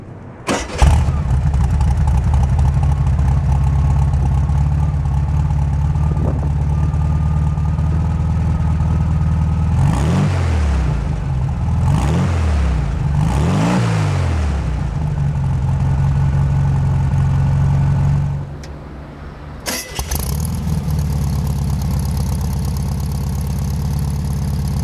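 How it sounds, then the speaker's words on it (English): A 1973 VW Super Beetle 1303's air-cooled engine idles with a steady low rumble, rising in three quick revs mid-way, briefly dropping off near the end, then settling back to a close, loud idle. "deep growl of a classic Volkswagen engine."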